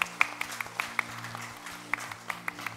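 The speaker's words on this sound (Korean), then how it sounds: "하나님께 영광의 박수를 드리겠습니다." Applause at a church service, with a few distinct, sharp claps standing out over softer congregation clapping, steady and close, with a low hum underneath.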